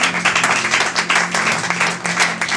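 A church congregation claps together in steady, dense applause, loud and close throughout, with faint voices mixed into the crowd.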